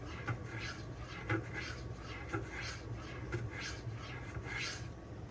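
Cold Steel Swift knife blade stroked across a fine 6K DMD diamond stone, close and quiet, with a steady rhythm of about one soft rasping pass per second and no talk.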